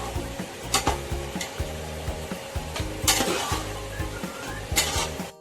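Marinated chicken stirred in a frying pot for biryani, a steady scraping and clatter of a spoon against metal with soft sizzling underneath, close and moderately loud, with a few sharper knocks.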